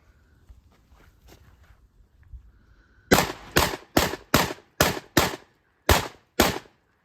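A Beretta 1301 shotgun fires eight high base shells in quick succession, each loud, sharp outdoor blast followed by a brief decay, after a few seconds of quiet shuffling and handling noise.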